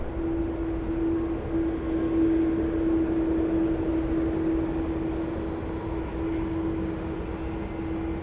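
An airliner rolls for takeoff at Minneapolis–St. Paul airport, a steady, loud broadband jet roar with a sustained engine whine holding level and close throughout, no voices.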